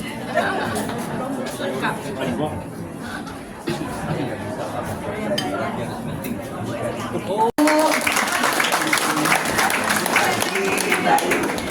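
Applause and crowd chatter fill a church ceremony for the blessing and inauguration of a monastery in Balikpapan. Clapping is steady and fairly loud throughout, with voices murmuring underneath, and after a brief cut it swells into a louder burst.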